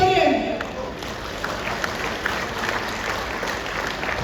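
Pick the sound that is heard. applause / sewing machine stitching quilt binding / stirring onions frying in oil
applause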